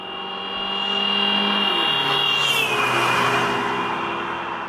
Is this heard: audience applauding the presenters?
no